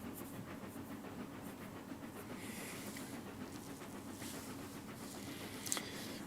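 Steam locomotive running in Trainz Simulator on Xbox, a steady low rumble and hiss with faint rhythmic chuffing throughout, fairly quiet and continuous.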